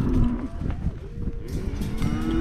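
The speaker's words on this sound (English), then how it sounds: "Cows are willing to go." Mashona cattle low at a pasture sorting pen, a deep close moo carrying over rustling movement and outdoor background noise.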